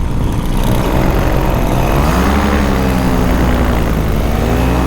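Paramotor engine and propeller droning steadily and loudly in flight over Moab, Utah, a continuous close buzz with slowly shifting pitch throughout.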